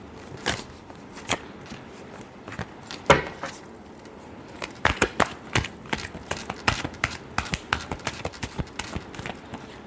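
Tarot cards are shuffled, making crisp, rapid flicks and taps close up. The sound is sparse at first, then becomes a busy, uneven run of card snaps.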